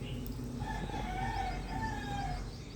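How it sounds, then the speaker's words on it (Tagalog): A rooster crows once in a drawn-out rising and falling call in a rural province early in the morning after overnight rain, moderately near over a steady low background hum. "Yung magigising ka sa mga tilaok ng manok, no?"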